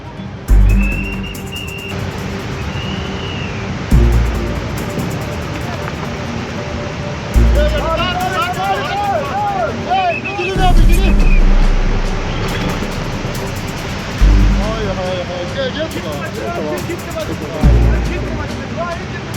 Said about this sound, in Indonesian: Jembatan Pakistan diterjang banjir bandang.